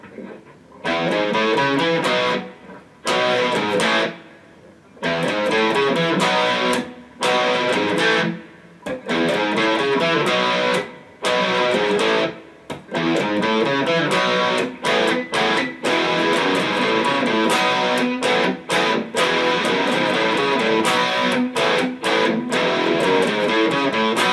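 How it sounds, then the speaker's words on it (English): A heavily distorted electric guitar plays loud chopped chords and riffs, with frequent sharp stops and silences between phrases. "fully distorted sound for the opening part"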